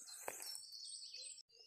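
Birds sing in the dawn chorus at Loch Lomond, a faint layer of high chirps and trills with one brief louder call, set at a distance in quiet open air.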